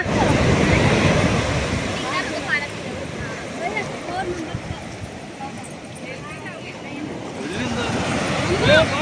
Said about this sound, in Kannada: ಇದು ಗೋವಾದ ಒಂದು ಬ್ಯೂಟಿಫುಲ್ ಬೀಚ್.